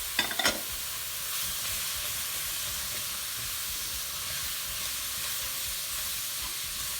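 Chilli with beef brisket, fresh sauce and green currants sizzles in a hot pan with a steady hiss after a few clinks as the ingredients go in.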